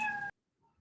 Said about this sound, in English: I keep hearing the cat meowing back there.